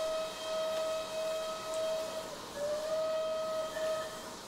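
A steam locomotive whistle on Myatt's Valley Railway in Train Simulator Classic sounds a long blast, then a second sustained blast that wavers slightly in pitch, loud and near over faint rail and steam hiss with no voices.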